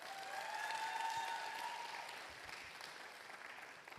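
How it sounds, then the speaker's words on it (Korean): A church congregation at a youth Sunday worship service applauds to welcome a young member: soft, continuous clapping, heard from a distance, holds steady and gradually fades over about four seconds, with faint musical tones early on. "박수로 환영하겠습니다"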